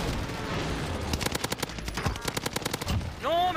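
Video game gunfire from a distance crackles in a fast run of sharp repeated shots, followed by a short rising whine at the end, moderately loud with no talk.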